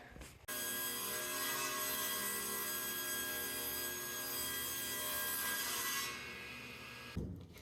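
A saw ripping wood boards down to 16 inches for a trapezoid coffee table: one continuous loud, bright cutting whine that runs steadily for about six seconds, then trails off and stops.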